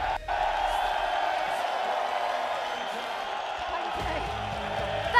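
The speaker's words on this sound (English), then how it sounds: "Let's give a massive applause to all of us, so loud that Keir Starmer, I can hear it in number 10" Crowd at a London street protest applauding and cheering, a dense continuous roar of clapping and whoops sustained throughout, with a loud burst at the end.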